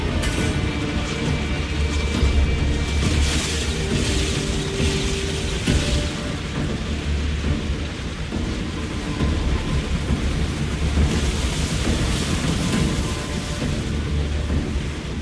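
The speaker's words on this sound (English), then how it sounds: "Storm ahead, Commander!" A thunderstorm at sea in Assassin's Creed Odyssey roars as a dense, loud wash of wind and rain with deep rumbling swells, continuous and heavy throughout.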